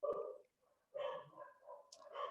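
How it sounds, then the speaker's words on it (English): Dogs barking behind a closed door in a house, several muffled barks in bursts separated by short pauses, fairly faint and alone. "I apologize for my dogs, folks."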